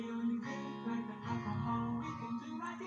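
Strummed chords made with a phone music app, a soft, close run of layered chord strums with staggered note onsets and a warm ringing tone, heard alone at low level.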